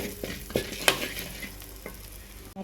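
Meat and spices for a Goan beef or pork stew frying in a pan, steady sizzling under several sharp scrapes and knocks of a stirring spoon, close and fairly quiet, with no talking.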